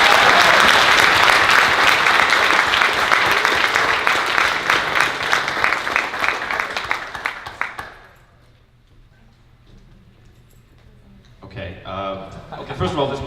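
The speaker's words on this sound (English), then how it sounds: "Let's give him a round of applause." A convention audience at closing ceremonies applauds loudly for about seven seconds, a dense clatter of clapping that fades away, followed by a near-silent pause before someone starts talking.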